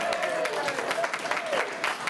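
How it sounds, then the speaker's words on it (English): Audience applause at an environmental forum on land use and transportation, steady clapping from a seated crowd filling the whole stretch at moderate loudness. "That deserves an applause."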